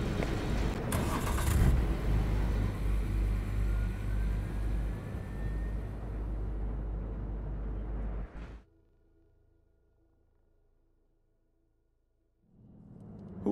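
Car driving in Cyberpunk 2077, a loud steady engine roar with rumbling low end that fades abruptly after several seconds into near silence before a faint hum returns at the end.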